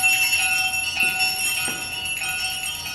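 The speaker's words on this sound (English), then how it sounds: "But soon it rang out loudly, and so did every other bell in the house." Bells ring together inside a house as part of a stage production of A Christmas Carol, making a sustained, shimmering metallic chime with overlapping tones and a few fresh strikes.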